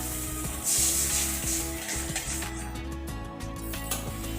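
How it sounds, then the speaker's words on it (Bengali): Water poured onto spice paste frying in oil for a Bengali fish-roe fritter curry gives a loud, steady sizzle with a sharp burst early on that settles into a continuous hiss. "এবারে আমি জল দিয়ে দিলাম পরিমাণ মতো।"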